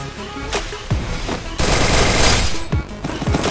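Gunfire in the Free Fire video game, with bursts of rapid automatic shots and single loud cracks in quick succession, heard close and loud through most of the stretch.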